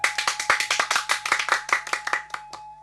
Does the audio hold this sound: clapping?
yes